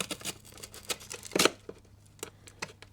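A Gear Infusion GhostTi ultra-thin titanium utility knife cuts deep into material, making a string of quiet, close scraping slices with one sharper, louder cut in the middle.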